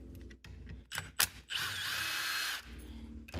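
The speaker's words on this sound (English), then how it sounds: "Next, we switch to an 8mm to pull out the 3 bolts right here." Bolts come out of a Valeo 180-220 amp alternator with an 8mm socket on a power driver: a few clicks and clunks, then a close, loud whirring burst of about a second before a quieter tail.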